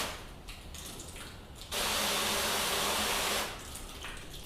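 Garden hose spray hissing onto car paint coated with ceramic quick detailer, a steady broadband rush lasting under two seconds between quieter dripping stretches.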